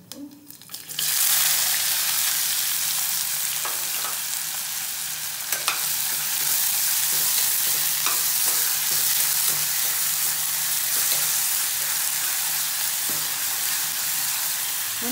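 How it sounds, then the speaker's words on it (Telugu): One cup of onions hitting hot oil in a pan for a ridge gourd egg curry, a loud steady sizzle that starts abruptly and continues throughout, with faint stirring clicks and no speech. "ఆనియన్స్ ఉల్లిపాయలు వేస్తున్నాను ఒక కప్పు."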